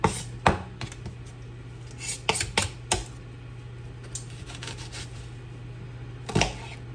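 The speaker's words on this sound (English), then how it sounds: "And I'm just rough chopping the onions" Knife rough-chopping onions on a cutting board in a home kitchen, a series of sharp, irregular taps with short pauses between them, fairly close and alone over a low steady hum.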